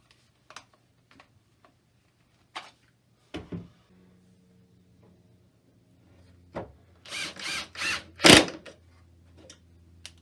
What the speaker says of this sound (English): And we'll drill the other 2 holes.